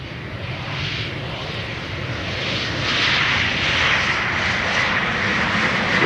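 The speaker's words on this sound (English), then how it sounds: "This Embraer 195 long range has journeyed to get here." An Embraer 195 long-range jet arrives at Amsterdam Schiphol Airport, its engines roaring steadily and swelling slightly louder as it approaches, with no talk.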